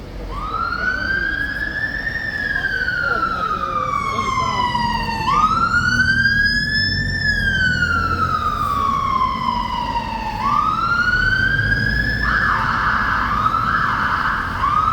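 Wailing sirens from emergency vehicles, police, ambulance or fire brigade, sweep up and down in slow, overlapping cycles on a London street, loud and near above a steady traffic rumble.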